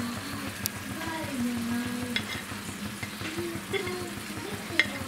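Eggplant sizzles in a crowded frying pan for shakshuka, with soft scrapes and clinks of stirring over the steady crackle. A faint voice comes through in the background.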